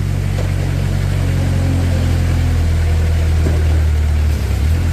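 A 2014 Moffett M55 truck-mounted forklift engine runs loud and close, a steady droning idle with a deep low hum that holds throughout and shifts pitch slightly near the end.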